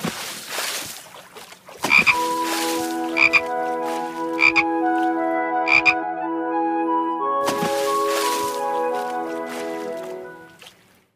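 Frog croaking in a series of loud, close, tonal croaks, some short and clipped and others long and sustained, repeating irregularly with brief gaps between calls.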